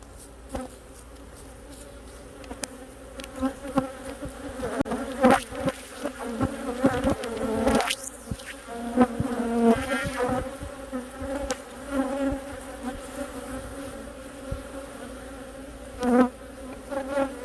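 Honey bees buzz loudly and close during a winter hive inspection, with a dense, wavering drone and individual insects whining past in brief swells.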